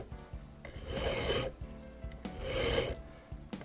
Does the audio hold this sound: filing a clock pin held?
yes